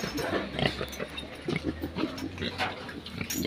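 A boar pig grunts and snorts in short repeated bursts close by, over steady low farmyard noise, with no talk.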